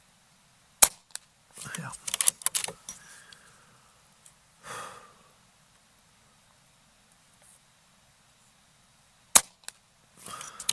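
An Air Arms S510XS Tactical air rifle fires at an outdoor range, one sharp crack near the start and another near the end, with quiet breathing and a brief word spoken in between.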